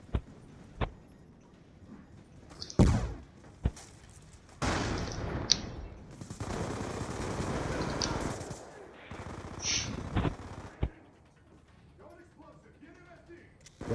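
Gunfire from a Black Ops 2 multiplayer match cracks in sharp bursts and single shots, with a speaking voice and game effects running beneath and between the shots.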